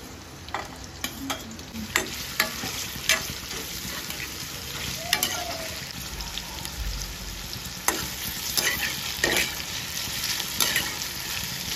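Chopped onion and green chili frying in a pan with ginger, a continuous sizzle broken by repeated sharp scrapes and clacks of a stirring spoon, close up with no talking.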